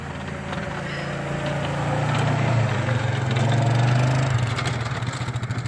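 A four-wheeler engine runs steadily while plowing snow, a low droning hum that swells and holds loud and close throughout, with no talking.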